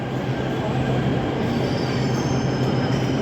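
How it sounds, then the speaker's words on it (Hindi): Delhi Metro train pulling into a station, a loud steady rumble of wheels on rails with faint squeal, continuous and close throughout. "मेट्रो भी आ गई है"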